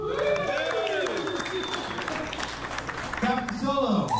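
A bar audience claps and cheers to vote for a song during a live music show, with whoops and voices mixed into a short burst of applause at moderate loudness.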